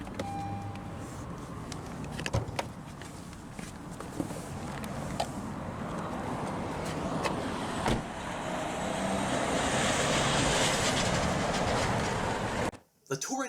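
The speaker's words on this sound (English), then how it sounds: "we'll now roll down the driver's window" A 2017 Honda Accord Touring sedan's driver's power window whirs steadily downward, a soft motor hum under quiet cabin ambience with a few faint clicks, ending with a brief thump.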